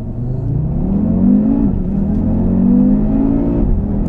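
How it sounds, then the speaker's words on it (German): An Audi TT RS Coupé pulls away hard from a standstill, its engine revving loud and close in rising sweeps with a brief dip as it shifts, then climbing again. "als allererstes gibt es erstmal eine Beschleunigung"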